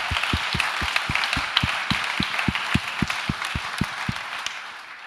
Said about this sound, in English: can I get a very big applause for her?